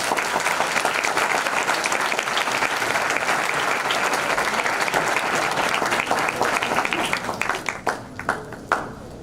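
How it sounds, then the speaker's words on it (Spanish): An audience at an international public accounting congress in Mexico applauds a conference speaker, a loud dense roar of clapping sustained for several seconds before thinning into scattered final claps. "le brindamos un fuerte aplauso"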